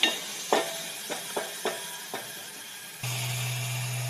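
Ground onion stirred in hot oil in a village-style kitchen gives a series of sharp scraping stirs, then settles into a steady close sizzle.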